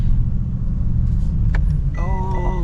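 Deep, steady engine rumble inside a Mercedes G63 AMG G-Class driving in India, loud and close, with a few faint clicks and a brief tonal whine near the end.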